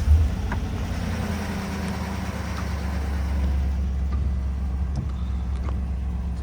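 Truck engine running steadily with a slightly chattery idle, a low continuous rumble with faint ticking on top, close by and with no voices.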